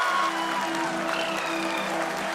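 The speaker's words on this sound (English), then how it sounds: "People are applauding." A crowd applauds steadily and loudly in mission control as India's Chandrayaan-3 lander makes its soft landing on the moon. The clapping is dense and continuous throughout, with faint voices underneath.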